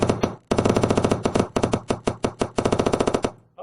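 Rapid repeated gunshot sound effects in a shooting game built in Adobe Director, loud close bursts firing in fast rhythmic runs with brief gaps between volleys.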